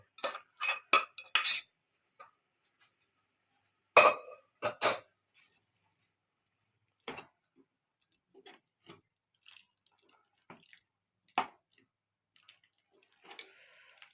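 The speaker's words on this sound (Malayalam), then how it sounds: "ഇതിലേക്ക് നമ്മുടെ വേവിച്ച് വെച്ച കപ്പ ഇട്ട് കൊടുക്കുന്നുണ്ട്" Cooked cassava is stirred into boiling masala in a pot, giving sparse metallic clinks and scrapes of a spoon against the vessel, in a quick cluster at first and then scattered, fairly quiet taps with silence between.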